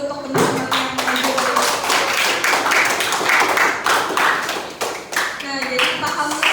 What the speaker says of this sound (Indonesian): Nah, tepuk tangan dulu untuk teman-teman yang maju.